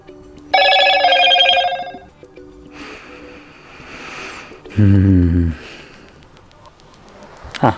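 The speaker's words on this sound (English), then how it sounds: "a phone will be spamming us with notification sound" A Motorola Moto G Pure smartphone chimes with notification tones: a bright, ringing burst lasting about a second and a half, then a lower, shorter repeat a few seconds later, with faint softer sounds in between.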